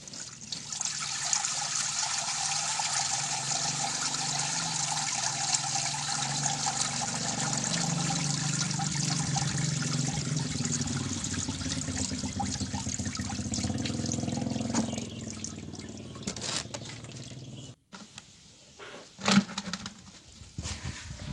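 Cloudy water from washed rice pours through a strainer in a steady splashing trickle for about fifteen seconds, then thins to scattered drips and a few clattering bumps.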